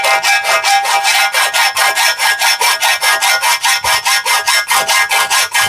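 Wood being hand-sawn, loud close rhythmic back-and-forth rasping strokes repeating steadily about four per second without pause, no voices.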